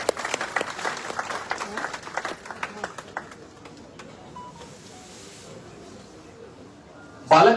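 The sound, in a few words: audience applause for Dwivedi ji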